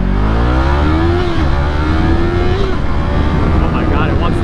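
Yamaha MT03 motorcycle fitted with a throttle tube mod, engine loud and close, revving up hard with pitch swells and a brief shift, the roar filling the clip.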